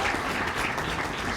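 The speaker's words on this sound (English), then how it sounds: "please give a warm round of applause for their head of marketing, Nikki Cruz." Brief burst of audience applause at a marathon press conference, steady clapping from a small crowd, fairly close and continuous through the short span.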